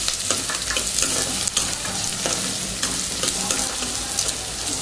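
Paste of mint, green chilli, ginger and garlic fries with onions in a pan, a dense steady sizzle broken by repeated scraping stirs, close and loud with no voices.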